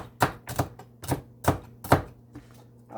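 Parsley being chopped on a board with a knife, five or six crisp, evenly spaced chops close up, then a pause and one more strike, with a faint hum underneath.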